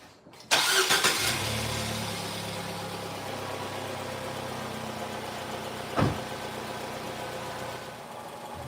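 A Nissan Sentra car engine with a burning-oil problem, treated with an engine restore additive, cranks and starts, then settles into a steady close idle, with one short louder rev partway through.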